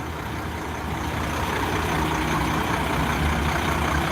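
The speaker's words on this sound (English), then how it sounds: "You can select a Bud Light truck as an Uber." A Bud Light truck serving as an Uber pulls up nearby, its heavy diesel engine a loud, steady low rumble that swells slightly as it arrives, with no talking.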